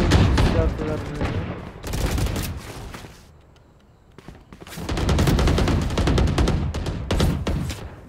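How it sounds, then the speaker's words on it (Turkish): Phantom rifle gunfire in the video game Valorant, rapid loud bursts in two clusters split by a short quiet gap, with someone talking over the shots. "Mermi sıkıyorum."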